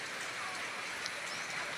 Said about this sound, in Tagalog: Pastilan pagka ulan na diri karon oh.